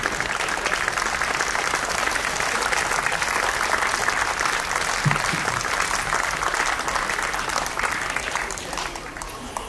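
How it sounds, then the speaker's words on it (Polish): An outdoor audience in Krościenko applauds opera performers after a staging of Kolberg's opera "Król Pasterzy", the clapping steady and dense throughout, with faint crowd murmur beneath. "jeszcze raz brawa dla tych artystów"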